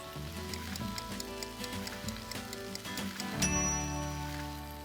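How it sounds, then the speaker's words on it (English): Potatoes fry in a hot pan with rosemary, giving a soft, steady crackle and patter of small pops that continues throughout, fairly quiet, with a brief clank of a utensil partway through. "the potatoes are sizzling away"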